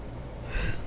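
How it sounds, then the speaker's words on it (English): A single yawn, a drawn-out breathy exhalation that swells near the end, heard close up and alone in a quiet room early in the morning. "I'm still yawning because I'm watching myself yawn"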